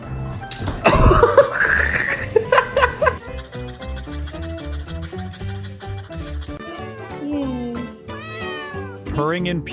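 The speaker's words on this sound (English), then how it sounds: "Purring in pure bliss from the chin scratches, yet his little mouth still complains in a sleepy mutter." A drowsy cat meows and mutters in short, close vocal bursts while being scratched under the chin, with a brief laugh-like sound near the start and several murmured meows toward the end.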